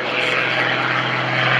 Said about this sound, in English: The sound you're hearing are the propeller tips of Gary's airplane.